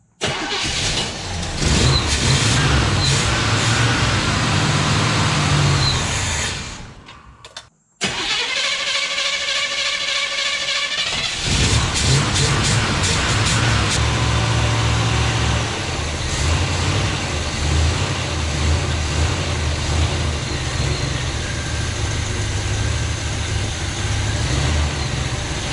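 A 1973 Chevrolet Monte Carlo V8 cranks briefly, goes quiet for a moment, then fires and settles into a steady, loud idle that runs on without talk.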